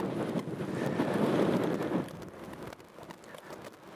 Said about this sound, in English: it's a hell of a wind